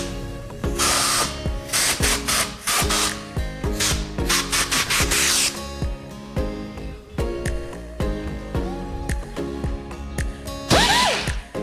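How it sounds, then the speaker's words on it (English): A wire brush tool scrubs old silicone off the valve covers of a HMMWV M1152 diesel, giving loud, repeated rasping bursts of scrubbing with short pauses between strokes and no talking. "We're gonna use this tool with the wire brush, and we're gonna clean up the best we can."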